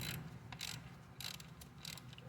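A ratchet snugging ignition coil bolts on a 2004 Scion xB gives several short bursts of quick clicking, close but quiet, over a low background rumble.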